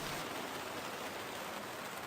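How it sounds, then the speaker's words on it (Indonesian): Steady rain pours down in a dense, even hiss that fills the whole stretch without a break, with no voices. "Dan hujan pun benar-benar turun setelah cukup jauh dari posisi Risma."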